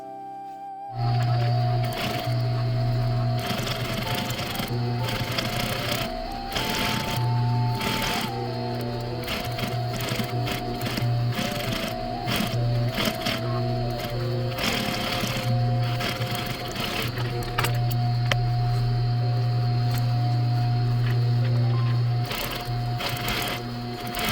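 A sewing machine runs in long steady bursts while stitching a coat sleeve, its motor hum and rapid needle chatter close and loud, pausing briefly between runs with no talking.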